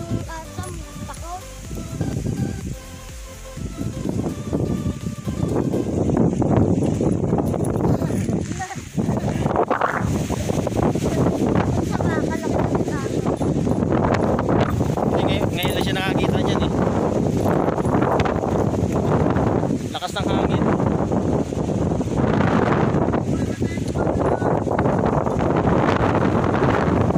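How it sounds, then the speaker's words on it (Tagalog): Steady wind buffets the microphone, a rough continuous rumble with gusts, while people talk intermittently over it. "Yung hangin."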